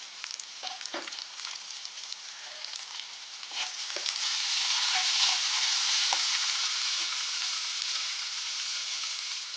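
Onions sizzle in hot oil in a pan with garlic, green chillies and curry leaves for a Tamil drumstick curry, a steady bright frying hiss with occasional stirring clicks that grows louder and fuller midway and holds there.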